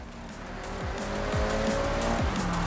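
In the Forza Horizon 6 racing game, set in Japan, a car brakes late on asphalt and its tires squeal in a loud, sustained skid over a droning engine that shifts pitch as it drops through the gears.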